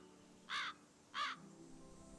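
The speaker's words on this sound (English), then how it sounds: "That sounds like a crow." A crow in a video game birdwatching scene gives two distinct harsh caws about half a second apart, clear against a quiet background of faint ambience.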